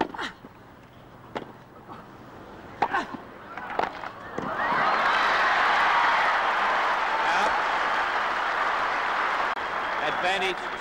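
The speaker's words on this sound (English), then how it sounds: "crowd erupts with joy." Crowd at the 1975 Australian Open tennis final between Newcombe and Connors bursts into loud, sustained applause and cheering after a few scattered claps, a dense roar that holds steady to the end.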